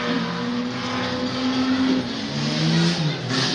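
A race car drives around a track, its engine note steady and loud with smooth pitch shifts as it changes speed, holding a continuous roar throughout without any voices.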